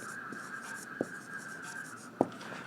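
Marker or chalk strokes on a board during a maths lesson make faint scratchy swishes broken by a few sharp taps, under a steady background hum, with no talking.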